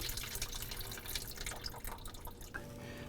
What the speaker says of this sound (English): remove this drain cap for the water and wait for it all to completely drain out